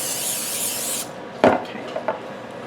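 Cooking spray hisses into a baking dish for about a second, then a few light clunks and knocks of the dish follow in a quiet kitchen.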